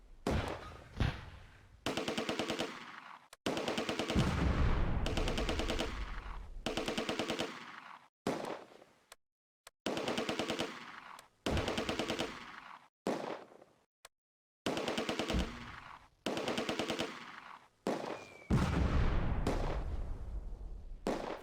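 Mortar rounds and gunfire crash through a Close Combat World War II battle at Arnhem Bridge, with machine-gun bursts and booming shots coming in repeated loud clusters separated by brief pauses, no talk.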